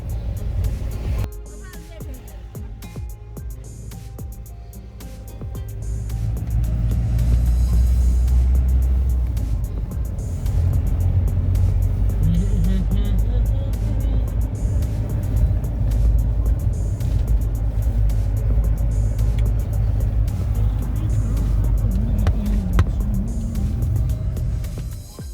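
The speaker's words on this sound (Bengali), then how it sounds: "এখন সামনে যাচ্ছে বাইক চালিয়ে" Engine of a motorbike riding ahead on a mountain road in Sikkim, a steady droning rumble that swells louder after a few seconds and holds, with voices talking over it.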